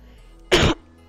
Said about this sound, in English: Oh my gosh, I'm coughing so much.